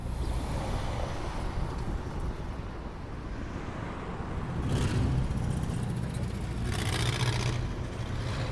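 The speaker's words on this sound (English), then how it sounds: "See, that's some good car sound." Cars rush past in two swells of broadband noise over a steady roar of wind and distant traffic, moderately loud.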